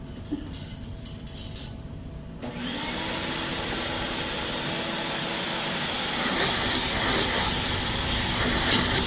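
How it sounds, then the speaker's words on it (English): A small workshop vacuum cleaner switches on after a quiet start with light handling noises, then whines loud and steady, close by, while dust is cleared during fabrication of a profiled composite fin. "Little vacuum."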